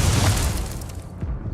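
An Incendio fire spell in Hogwarts Legacy bursts out as a short, deep, booming blast that rumbles and fades over about a second.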